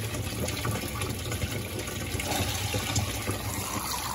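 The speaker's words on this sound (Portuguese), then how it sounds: "agora lá vem pro dispenser de alvejante. Que também, ó, passa bastante água." Water rushes steadily through the bleach dispenser of a Whirlpool Vantage 4.0 cu ft top-load washer (WTW7990XG) during a towel wash, a continuous close gushing fill with no talk.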